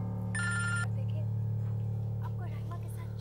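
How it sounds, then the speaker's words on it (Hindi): A telephone rings once in a short, bright electronic trill near the start, over a constant low hum in a quiet domestic room. "आपका फोन बज रहा है"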